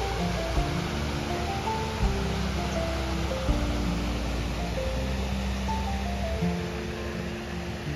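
A waterfall in Hadano's Tokawa park sends a steady, full rush of flowing water, close and constant throughout, with faint tonal chirps drifting over the wash.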